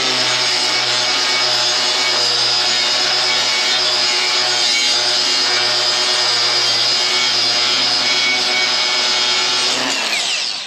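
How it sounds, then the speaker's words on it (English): An angle grinder fitted with abrasive pads cleaning metal, held one-handed, whining loud and steady close by for about ten seconds before winding down at the end, with no talking. "I'm gonna go ahead and try and show you guys with this grinder, even though I'm gonna be using it one-handed, how well these abrasive pads work"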